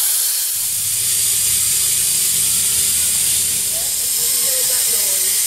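Air hissing steadily out of a Land Rover tyre through the valve with the core removed, a loud, continuous broadband rush lasting the whole stretch, close to the microphone.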